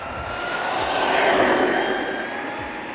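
An Arrma Outcast RC car on a 6S battery runs at about two-thirds throttle, its high whining motor rising in pitch and loudness as it nears, then fading as it passes.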